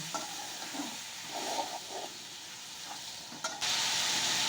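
Chopped tomatoes and green chillies fry in a pan for tomato chutney while being stirred, a soft sizzle with scraping stir sounds, swelling louder in the last second.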